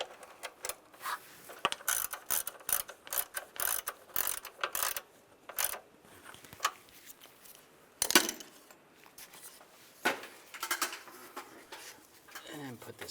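A ratchet clicks in quick bursts tightening a nut on the engine cover of a 2007-2013 Chevrolet Silverado 1500, close and crisp, with a brief pause and a few slower strokes later.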